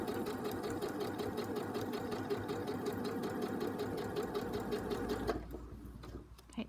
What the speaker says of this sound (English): Presser foot then goes back down, ready to sew it. We're going to sew along.